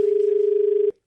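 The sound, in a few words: telephone ringing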